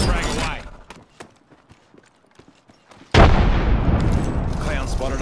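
A frag grenade explodes in Apex Legends, one sudden loud broadband blast after a quieter stretch of clicks and small pops, with dense rumbling debris and noise sustained afterward as the battle continues.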